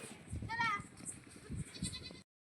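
A goat bleats once, a short wavering cry close by, over rustling outdoor noise and faint voices.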